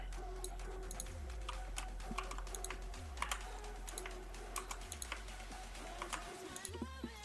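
Typing on a computer keyboard to enter numbers into a FreeOffice spreadsheet, a quiet, irregular patter of close key clicks over a low steady hum.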